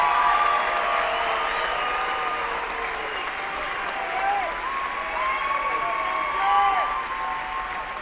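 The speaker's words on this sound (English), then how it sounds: "Let's have a round of applause for our 2025 master's degree graduates." A commencement audience applauds the master's degree graduates in a large hall, sustained clapping from a big crowd under tonal musical sounds that drift across the whole stretch, with no speech.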